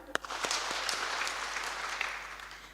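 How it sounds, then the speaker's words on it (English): A crowd at a mental wellness talk claps steadily together for about three seconds, a dense, even patter of hands with a few sharper claps standing out near the start, with no voices. "we can clap them"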